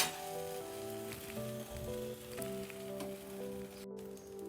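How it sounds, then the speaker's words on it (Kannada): Bread frying in butter on a hot tawa griddle for a veg sandwich, a steady soft sizzle running throughout over a low background hum, close and moderately loud with no talking. "ಹೆಂಚು ಮೇಲೆ ಸ್ವಲ್ಪ ಬಟರ್ ಹಾಕ್ಕೊಂಡು ಬ್ರೆಡ್ ಇಕ್ಕೊಳ್ಳೋಣ"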